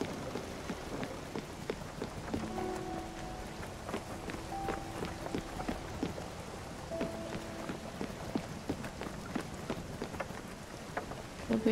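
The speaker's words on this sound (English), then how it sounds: "Guys, it's raining." Quiet rainfall in the video game Spiritfarer patters softly, scattered drops ticking, while faint sustained tones hum in the background.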